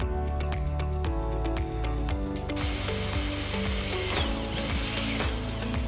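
A tool drills or cuts a hole for an on-off switch in a circuit enclosure, giving a loud, rapid, rhythmic ratcheting buzz that grows denser and harsher partway through.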